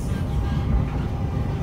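A train rolls past in a short burst of dense, low rumbling. It is fairly loud and close, with no clear speech over it.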